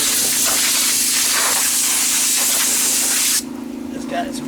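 Pressurized water spray blasts hard and close against a Husqvarna Z254 zero-turn mower deck, a loud continuous hiss that cuts off abruptly near the end, leaving quieter splashing and a low hum.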